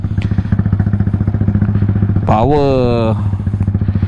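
A modified motorcycle with a 68 mm bore and stock exhaust runs on a dyno, its engine firing in a steady rapid pulse, then briefly revving hard and high before settling back, loud and close with someone talking over it.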